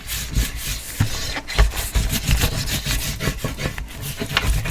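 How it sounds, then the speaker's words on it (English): A tool burnishes a paper photo album page with continuous close rubbing and scraping, made of quick back-and-forth strokes at a moderate level. "A little bit of burnishing."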